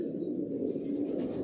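Racing pigeons in a loft give soft, intermittent coos and chirps over a steady low murmur of the flock, heard close and continuous.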